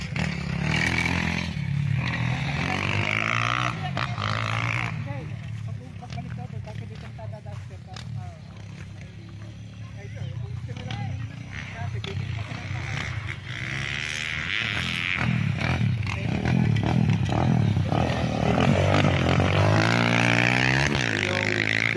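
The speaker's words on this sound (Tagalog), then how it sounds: "Ang ating motor." A motorcycle engine drones steadily and loudly while riding along a rural road past farmland in Nagcarlan, Laguna, its pitch rising and falling with throttle changes and wind rush throughout.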